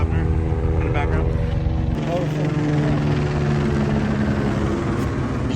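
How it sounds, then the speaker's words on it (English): A helicopter passes over a baseball stadium during a rain delay, a loud, close rotor drone with a steady pulsing thrum that shifts in tone as it goes over, while people talk nearby. "And here comes the helicopter."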